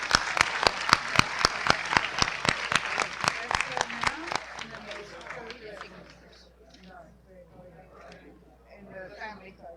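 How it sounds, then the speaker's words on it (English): Audience applause at a biodiversity summit plenary session, sharp loud claps opening the clip and thinning out over several seconds until only scattered hand claps and room murmur remain. "giving them a round of applause for this very momentous"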